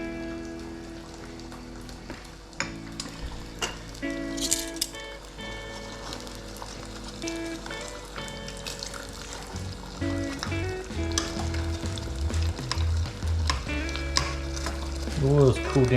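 Beer-battered fish fries in hot oil, giving a steady close crackle and sizzle like light rain, with musical tones running underneath throughout.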